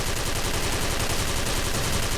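Rapid, continuous automatic gunfire from the Platinum XM8 2nd Gen rifle in the Special Force video game, a dense close rattle with no pause across the whole stretch.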